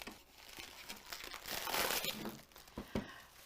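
Protective plastic film being peeled and crinkled off a Cricut Explore 3 cutting machine, faint close rustling and crackling in irregular bursts with a sharper snap near the end.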